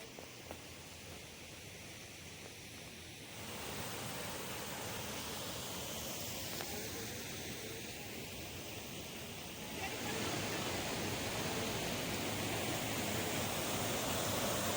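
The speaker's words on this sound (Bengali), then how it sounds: "আজকের মতো লাস্ট ওয়াটারফল ঘাগড়া ওয়াটারফল" Ghagra waterfall flowing over rock holes carved by water, a steady broadband rushing roar that grows louder in stages, continuous and without clear talk.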